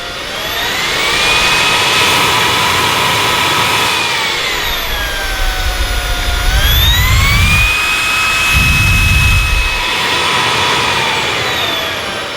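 A Xiaomi Roidmi F8 handheld cordless vacuum cleaner runs close by with a loud, steady whining motor hum whose pitch bends up and down, broken by two short low rumbles.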